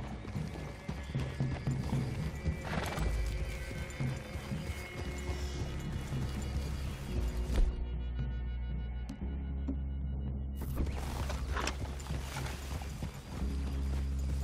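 Horses in the Red Dead Redemption 2 video game clop steadily across a clearing with an occasional whinny, rhythmic hoofbeats over a low ambient bed with mechanical clicks and a brief drop-out midway.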